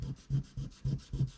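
Charcoal is rubbed back and forth on drawing paper to soften tones, making soft, rhythmic scrubbing strokes about every quarter second, close and quiet.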